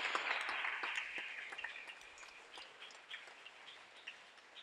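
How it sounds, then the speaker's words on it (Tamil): A church congregation claps hands together at a worship service, a dense burst of applause that starts strong and gradually thins into scattered claps, distant and soft. "கைத்தட்டி ஆண்டவருக்கு நன்றி சொல்வோம்."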